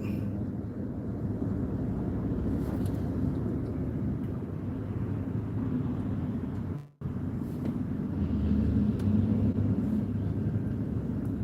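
Steady road traffic rumble from inside a moving vehicle, a dense low drone with wind noise running throughout and a brief dropout near the middle.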